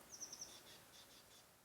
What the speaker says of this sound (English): Maybe you can hear the birds in the background